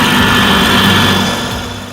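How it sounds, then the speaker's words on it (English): A Vermeer SC70TX stump grinder's 67-horsepower engine drones loud and steady while grinding out storm-felled tree stumps, a dense mechanical roar that eases slightly toward the end. "The sound of the engine resonates as the machine grinds to a depth of 2 feet"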